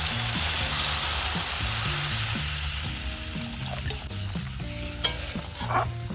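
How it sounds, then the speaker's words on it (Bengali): Water goes into a sizzling, well-fried spice masala gravy for a lentil-fritter curry, giving a loud hiss that gradually settles while background music plays steadily and a few utensil clinks sound near the end. "এবারে আমি জল দেব"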